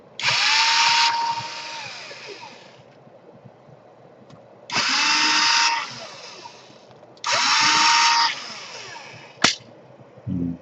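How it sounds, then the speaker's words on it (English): An electric screwdriver backs out the battery screws on a Samsung Series 7 Chronos laptop, three short close whirring bursts separated by pauses, with a small click near the end. "now unscrew the battery"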